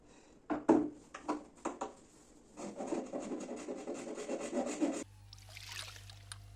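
A blade cuts through a broken wooden chair with uneven rasping, scraping strokes, close and fairly quiet, in irregular bursts before the sound drops to a faint hum.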